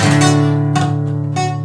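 Several strummed guitar chords ring out in steady succession, each strum sharp at the start and sustaining loudly.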